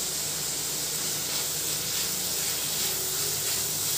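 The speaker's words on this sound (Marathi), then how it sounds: "मिडियम गॅसवर हा कांदा अगदी हलकासा गुलाबी कलरचा होईपर्यंत परतून घ्यायचा आहे" Sliced onion sautéing in a pan over a medium gas flame for paneer bhurji, a continuous soft sizzle and hiss holding steady throughout with no talk over it.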